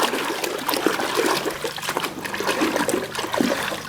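Water runs and trickles with light splashing as toy vehicles are washed, a continuous close, bright stream with no talk over it.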